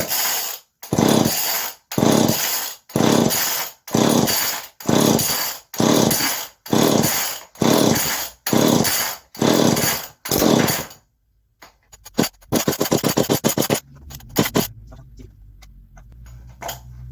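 A 1970s Homelite XL chainsaw is pulled over again and again, about ten loud rhythmic cord pulls, then sputters to life and revs, a harsh close engine roar that settles toward an idle.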